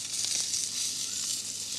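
Steady hissing sizzle of scallops frying in a hot pan outdoors in Greenland, close and constant with faint crackles.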